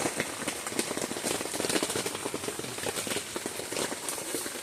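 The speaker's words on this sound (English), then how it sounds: "I just want to do a rain test for you guys in the new inflatable tent" Rain patters steadily on the fabric of an inflatable tent during a tornado warning with strong wind, a dense close drumming of drops with no voices.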